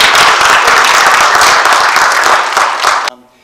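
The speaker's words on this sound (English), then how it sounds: "Please give a round of applause to our" Dense audience applause for the panelists at a monthly meeting, loud and sustained for about three seconds before cutting off abruptly into near silence.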